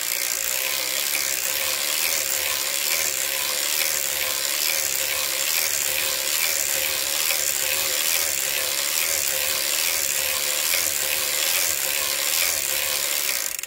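A hand-cranked circular sock knitting machine works the leg rows, giving off a continuous dense mechanical whirring and ratcheting clatter at an even pace, loud and close.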